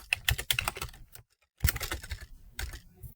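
Computer keyboard typing a date into an Excel spreadsheet: bursts of quick, close keystrokes broken by a short pause around the middle, with no talking.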